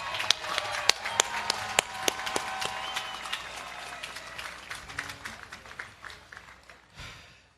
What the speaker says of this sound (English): How about another round of applause for Mr. Ceriola reading 550 names?